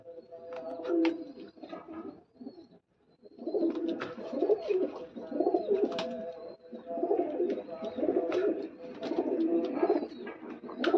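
Pigeons cooing over and over, low throaty burbling calls that overlap steadily throughout, with a brief quiet gap near the start.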